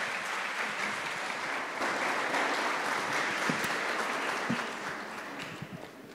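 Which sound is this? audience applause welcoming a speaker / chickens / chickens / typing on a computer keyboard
audience applause welcoming a speaker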